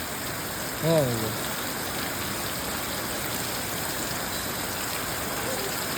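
Heavy morning downpour, a steady broadband hiss of rain that runs loud and unbroken throughout, with a brief voice-like sound near the start.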